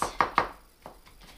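Kimchi ingredients are chopped and minced with a knife on a cutting board in a rapid series of close, sharp strikes. Three loud chops come first, followed by several softer, quicker taps.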